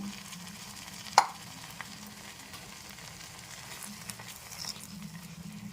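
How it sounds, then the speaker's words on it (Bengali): Cauliflower rezala masala paste with soaked raisins, milk and a little water stirred and mixed in a pan, a soft quiet scraping with one sharp spoon knock near the start. "এখন ভালো করে একটু নেড়েচেড়ে মিশিয়ে নিচ্ছি"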